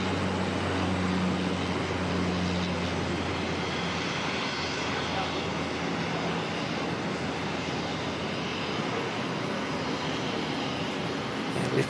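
An aircraft flies low past the runway at Auckland Airport with its landing gear down, a steady broadband engine roar holding level throughout, with talk faintly underneath.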